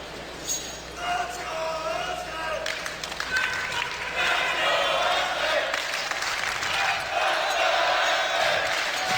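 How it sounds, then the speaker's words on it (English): A live esports crowd at the CS:GO Boston Major, during SK versus Fnatic on Dust 2, cheers and claps beneath a commentator's voice, swelling louder and denser midway through the round. "SK getting a lift from the crowd as we have a very important round at hand"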